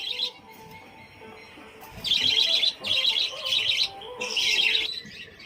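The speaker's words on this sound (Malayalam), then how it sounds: "പിന്നെ ഇതിൽ കുഞ്ഞിക്കിളികളൊക്കെ ഉണ്ട് കേട്ടോ, കൂട്ടില് ചെറിയ കുഞ്ഞിക്കിളികളൊക്കെ ഉണ്ട്." Finches and other small birds chirp and twitter in a home aviary, bright bursts of song coming in repeated close clusters with brief pauses between.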